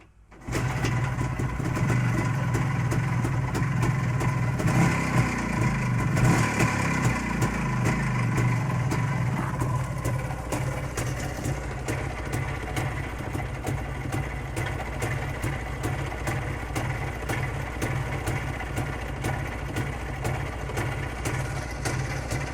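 Jawa 350 motorcycle engine on CDI ignition starting up and then running steadily at idle, a loud close rhythmic putter with a brief rev near the start, heard alone without talk.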